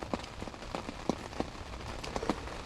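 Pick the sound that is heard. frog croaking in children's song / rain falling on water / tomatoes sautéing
rain falling on water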